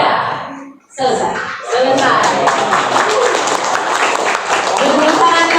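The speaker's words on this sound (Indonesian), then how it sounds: "Tepuk tangan yang meriah." Audience applause at a gathering of Pejuang Perubahan volunteers, a loud dense wash of clapping that swells after a brief pause and holds steady, with voices and shouts mixed in underneath.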